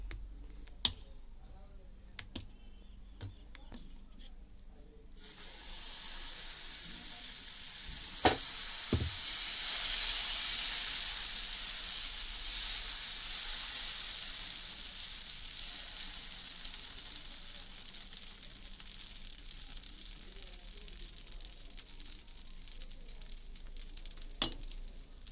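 Onion dosa batter spread on a hot pan, with a loud, steady sizzle that bursts in after a few seconds of quiet clicks and lasts close-up to the end, with occasional sharp taps over it.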